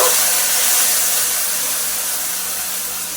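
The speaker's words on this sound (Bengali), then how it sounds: "এবার এই যে লবণ হলুদ আর সর্ষে মাখানো মাছগুলো আমি কড়াতে দিয়ে দেব" Hilsa fish coated in salt, turmeric and mustard hit a hot wok and set off a loud, steady sizzle and hiss that fades slightly across a few seconds, with no other sounds.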